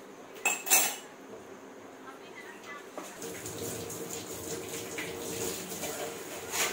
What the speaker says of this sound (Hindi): जब भी बर्तन साफ करो जूना भी जरूर साफ करे करो